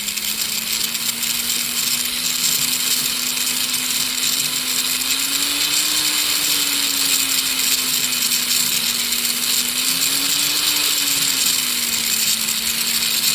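A power grinder works on a pitted ring with a steady, loud, high whine whose pitch drifts slightly up and down as the tool is loaded, with no talk.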